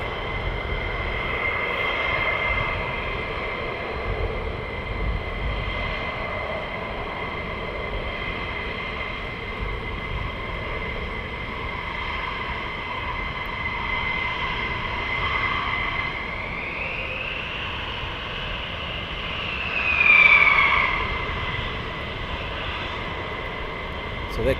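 Military aircraft taxiing at RAF Lakenheath airfield, a steady engine whine and rumble held at moderate distance throughout, swelling briefly louder near the end, with a voice talking over it.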